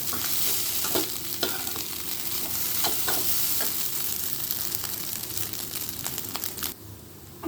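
Chow mein is tossed in a hot pan with tomato, soy and chili sauce, a close, busy sizzle broken by repeated scraping and clattering strokes of a utensil, with no talking.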